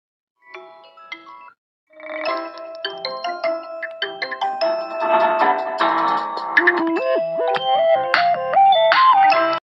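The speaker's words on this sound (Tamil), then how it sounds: "உங்களுக்கு தான் ஃபோன் வந்துட்டே இருக்கு" A mobile phone ringtone plays a bright electronic melody that starts with a short phrase, pauses, then continues and builds in loudness, close and clear.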